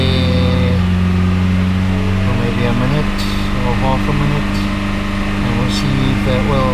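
A VW Citi Golf engine held at a steady 3,000 revs during an oil pump check, a loud, constant mechanical drone with faint higher whirring sweeps over it.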